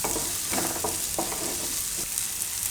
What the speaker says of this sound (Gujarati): આને થોડીક વાર પાકવા દેવું, ડુંગળી ને લસણ બેયને